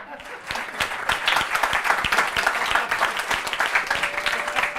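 A theatre audience at a French comedy show bursts into sustained applause, many hands clapping densely and fairly loudly for nearly five seconds.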